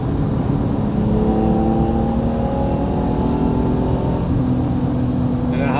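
A BMW E46 M3 on Continental ExtremeContact Sport tires accelerates hard on a wet road, engine note climbing in pitch through the gears with a brief shift dip, loud and close over road and wind noise.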